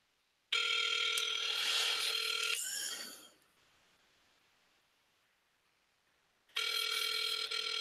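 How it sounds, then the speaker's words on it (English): Telephone line ringing during an outgoing call: two long ringback bursts, one near the start and one at the end, separated by a quieter gap, loud and steady with no talking. "that line is just ringing and ringing and ringing"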